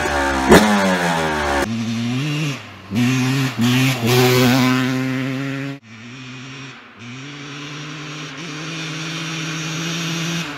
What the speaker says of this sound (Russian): Одноцилиндровая 249-кубовая силовая установка жидкостного охлаждения выдает 53 лошадиные силы максимальной мощности